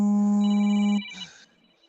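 A phone rings with a steady electronic tone for about a second, loud and close, then cuts off into quiet room sounds at a reservoir.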